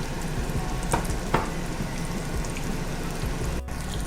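Chicken tenders frying in a pan on medium-low heat give a steady, close crackling sizzle with a few brief pops and a soft clunk near the end.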